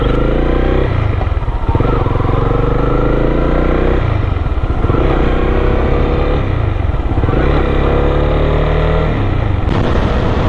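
A Honda CB300R motorcycle held at top speed on a road, its engine roaring loud and steady with strong wind rush, the pitch dipping and climbing slightly as the rider works the throttle.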